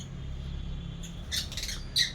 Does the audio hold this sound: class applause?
no